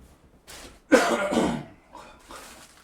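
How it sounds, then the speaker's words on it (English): A person has a short coughing fit: a loud burst of harsh, rough coughs with throat clearing near the microphone, then a few quieter coughs after a pause. "Sorry, I've been having these coughing fits because I've been vaping a little too much."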